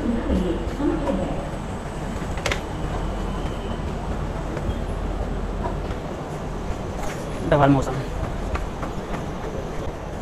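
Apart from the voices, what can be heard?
train at a railway station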